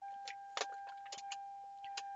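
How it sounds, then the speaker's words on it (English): Keys jangle and click in the ignition of a Toyota Supra as it is switched on without starting, with a steady electrical whine underneath; several short metallic rattles, close and quiet. "I'm going to turn my ignition on."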